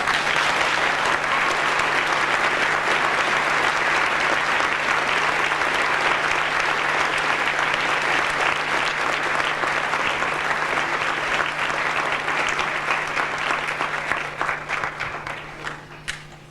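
A 1988 junior high school graduation audience in Andover, Massachusetts, gives a long, full round of applause lasting about sixteen seconds, steady and dense before thinning and fading out at the close, over a low electrical hum.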